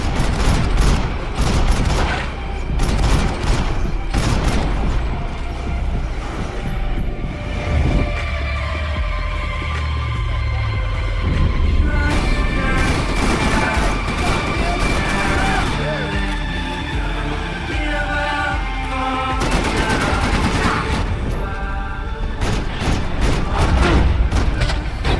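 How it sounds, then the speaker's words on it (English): Grenade blasts and gunfire in Max Payne 3: repeated booms and crackling shots ring out over a thick, busy game soundscape of music and effects, loud and sustained throughout. "Grenades."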